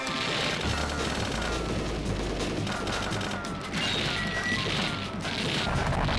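Bomb blasts and crashing explosions roar through dense arcade gunfire in the run-and-gun game Shock Troopers, loud and continuous for several seconds with no talking.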